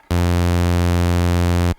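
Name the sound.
synthesizer oscillator playing a ramp wave, reverse sawtooth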